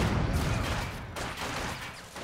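Mortar strike in a Company of Heroes 2 match, a loud, heavy explosive boom with rumbling, crackling battle fire surrounding it, with no talk.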